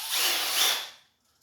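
A power drill spins a hone inside the cylinder walls of a 289 engine block during a home rebuild, giving one short, loud whirring burst that quickly winds down to silence.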